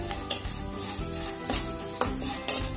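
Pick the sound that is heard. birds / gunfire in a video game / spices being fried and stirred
spices being fried and stirred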